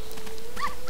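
A puppy in the video game Ocarina of Time gives short whimpering yips, two brief high whines close up over a faint steady background tone.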